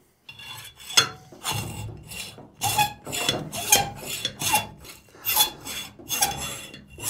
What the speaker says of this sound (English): Now I've shown you how to cut it off with a hacksaw.